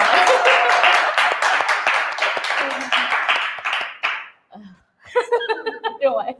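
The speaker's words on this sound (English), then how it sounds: "Can we all give a big round of applause to Caroline" Audience clapping for the host Caroline at a youth talk event, a dense run of hand claps with some laughter mixed in, fading out after about four seconds before other sounds follow.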